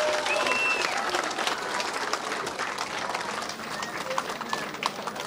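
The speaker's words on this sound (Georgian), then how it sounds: "აპლოდისმენტები გავამხმოთ" Sustained crowd applause for a winning fighter at a professional fight night, dense and steady for the full five seconds, tapering slightly midway before rising again.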